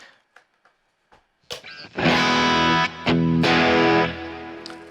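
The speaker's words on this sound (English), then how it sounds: "especially if I have some overdrive on it, I'm going to go ahead and kick that in" A few muted string plucks, then loud distorted electric guitar chords ring out, sustained and gritty, with a short break between strums.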